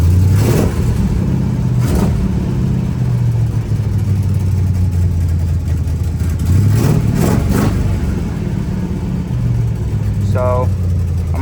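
A car engine fitted with a Holley carburetor idles smoothly at around 800 RPM, a loud, steady low rumble close by, with someone talking over it and a brief small rev near the end.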